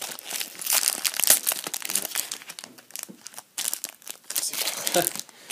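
A Pokemon card booster pack wrapper is opened up close, with loud continuous crinkling and tearing of foil plastic in uneven bursts and brief pauses, while a person talks over it.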